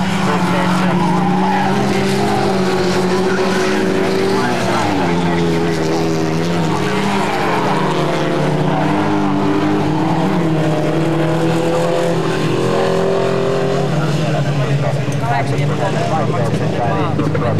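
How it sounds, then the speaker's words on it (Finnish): Rally cars race past at a Finnish track, a Ford among them, their engines droning and rising in pitch with steady loud roar and tire noise, under continuous commentary. "Kolmantena siellä numero 19 Mykkäsen Risto, erittäin hienosti Fordia vielä kaveri"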